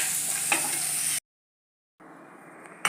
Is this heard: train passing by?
no